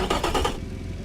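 A turbocharged three-cylinder car engine in the racing game Automation starts with a few quick pulsing cranks. It then settles into a steady mid-pitched idle, close and fairly loud.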